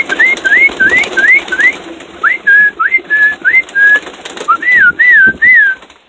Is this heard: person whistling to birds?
yes